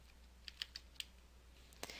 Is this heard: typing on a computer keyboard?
yes